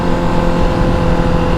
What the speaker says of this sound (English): I wonder if the microphone picks up the exhaust at all.